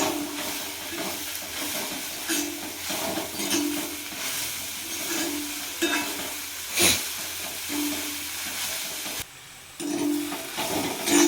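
Taro stem thoran stirred in a frying pan, with a steady sizzle and repeated scraping, stirring strokes up close. The sizzle briefly drops away near the end, then returns.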